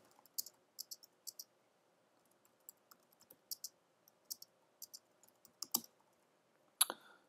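Keys clicking on a computer keyboard in a quiet room, with short bursts of light taps and brief pauses, close and soft, with no talking.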